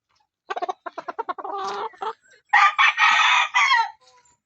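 Five-month-old chickens make a quick series of short clucks. A loud, close rooster crow follows, drawn out over a couple of seconds with no one talking.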